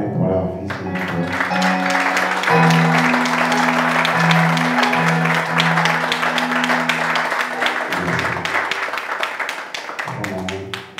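A church congregation at a youth conference claps loudly and continuously, the dense applause running over a sustained organ or keyboard chord.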